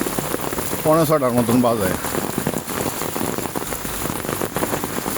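Steady rain falling on the streets of Mymensingh town in the early morning, a constant close patter that continues beneath someone speaking briefly.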